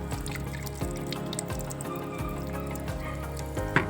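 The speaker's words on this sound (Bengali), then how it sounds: "আমি মাঝে মাঝে এরকম করে জল পাল্টে দিই, শ্যাওলাগুলো যাতে চলে যায়।" Water poured and dripping out of a container as it is emptied to clear away algae, a soft continuous trickle with scattered drips and small splashes, fairly quiet and close.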